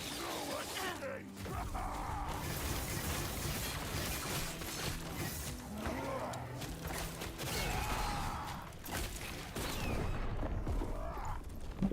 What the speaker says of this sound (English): Explosion from slaughtered thrall.